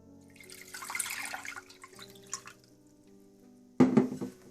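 Water poured into a cooking pot, a trickling, dripping splash that fades and then returns in a louder burst near the end, close and without talk.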